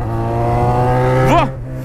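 Yamaha XJ6 motorcycle with its original exhaust revving, a loud, steady engine drone close by that swells in a quick rev near the end before dropping back to idle.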